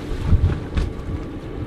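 A sailboat's inboard engine idles steadily at 1500 RPM while the boat lies at anchor, a low continuous rumble mixed with wind buffeting the microphone, with no talking.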